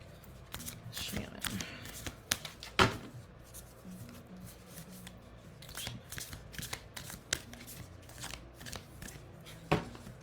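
Oracle cards are shuffled by hand for a reading, giving a run of soft, close riffling flicks and taps in an irregular rhythm, with quiet speech at times.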